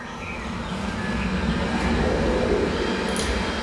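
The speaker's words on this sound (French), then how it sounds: "allume l'aspirateur" A robot vacuum cleaner runs indoors, played loudly through a Sonos Arc Dolby Atmos soundbar, as a steady close whooshing hum that swells slightly over a few seconds with no talk.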